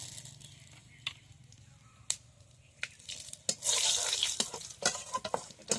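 Cumin, dried chilli and bay leaf go into hot oil in a home kitchen, with spoon clinks and taps before a short, bright burst of sizzling that settles into crackles and stirring scrapes.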